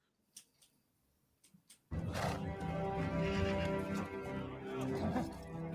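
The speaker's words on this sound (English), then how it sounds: "Way too many horses." A large group of horses neighs and whinnies loudly, mixed with clattering hooves. The noise bursts in suddenly after a few faint, quiet moments and stays dense and continuous.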